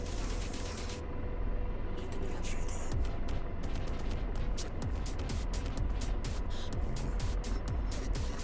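Weapon fire from an aircraft in the DCS World combat flight simulator, sounding as a rapid series of sharp bursts over a steady loud engine and cockpit roar, with a voice briefly talking.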